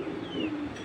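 A racing pigeon gives a short, soft coo, faint and close, with a low murmuring tone.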